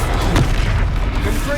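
A Confringo spell explosion in the Hogwarts Legacy video game gives a short, heavy boom early on, set within dense, continuous game noise and rumble.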